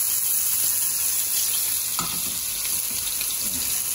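Asparagus fries in nut-brown butter in a pan where plaice fillets are cooking, giving a constant bright sizzle with a clunk as pieces drop in and light stirring after; no voices.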